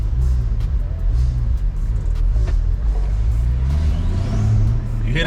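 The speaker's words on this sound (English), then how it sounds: "You hear them turbos, boy?" Tuned Porsche with M-Engineering Stage 2 turbo upgrade accelerating, engine rumbling and rising with turbo whistle building near the end, heard from inside the car.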